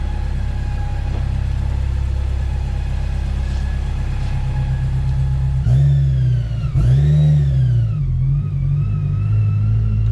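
A wide-body AP1 Honda S2000 with a Craftsworks supercharger kit, about 400 wheel horsepower, rumbles close by at a steady idle, then gives two sharp revs that climb and fall before settling back to a throaty idle.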